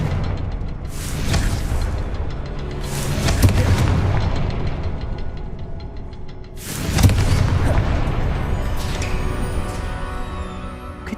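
Thunderous spell blasts from the Hogwarts Legacy video game, with two heavy booming explosions several seconds apart, each erupting loudly and rumbling away, with fainter crackling bursts in between.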